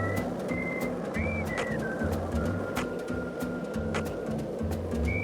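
A character in the video game Deadly Premonition 2 whistles a tune: short, clear whistled notes drift over a steady, rhythmic low musical backing, fairly soft and without speech.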